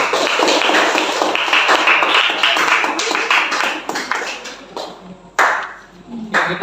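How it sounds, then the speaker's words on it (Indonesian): Classroom applause for a student group in a junior high school, dense clapping from many hands lasting several seconds before thinning out into scattered claps near the end. "tepuk tangan buat kelompok 3"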